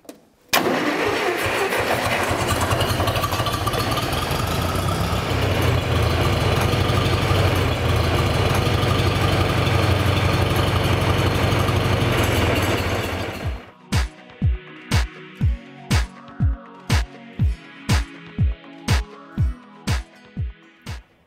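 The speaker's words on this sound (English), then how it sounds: "Now I'm going to start the tractor up so that you can compare how yours runs versus how mine runs." A John Deere 3010/3020 gasoline tractor engine runs with a loud, dense roar, then settles into slow, evenly spaced, distinct firing beats as it idles.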